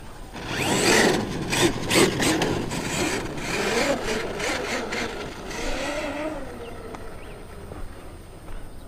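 An RC truck, a Hobao Hyper MT 6s, grinds and crunches through its drivetrain with a failing drive shaft, giving loud repeated rasping bursts that fade to a quieter rattling and then near silence.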